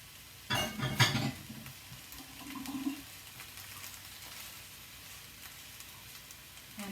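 Raw bok choy going into a hot pan, a loud crackling burst at first that settles into a quieter, steady sizzle with an occasional stir.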